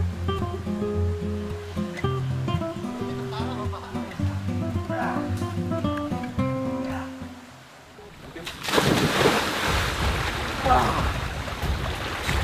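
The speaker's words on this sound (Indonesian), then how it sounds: "termasuk sungai yang dalam dan berarus deras ini" Music plays at first, then a deep, fast-flowing river bursts in as a loud, continuous close rush of churning water that fills the last few seconds.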